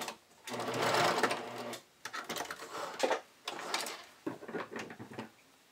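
A sewing machine runs a narrow, tight zigzag stitch to anchor a bodysuit strap, with back tacking. A close mechanical whirring comes in several short runs: one long run, then a few brief bursts separated by pauses.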